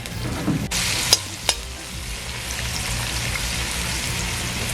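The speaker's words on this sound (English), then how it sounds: "some onions and some curry leaves. I'm just going to wait for this to saute." Onions and curry leaves sauté in a hot pan, a steady crackling sizzle like light rain, with a couple of sharp clinks near the start and no voices over it.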